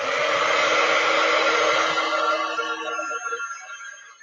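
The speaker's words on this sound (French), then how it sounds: "je vais déjà faire sécher cette couche-là. Donc, je vais juste être un peu sur le côté en espérant que le pistolet chauffant ne te casse pas les oreilles" Heat gun drying a layer of paint on an art journal page, a loud, steady blowing whoosh held close for about two seconds that then fades and weakens as it shuts off, no talking.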